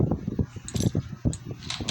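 Keys picked up from under a pot in the horror video game Baby in Yellow give a short run of close, bright metallic jingles and clinks spread over a couple of seconds.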